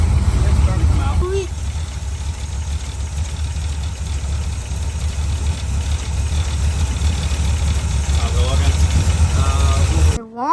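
A car engine idles on a $20 junkyard Holley 600 carburetor with a loud, steady low rumble that runs almost without a break, while voices talk over it now and then.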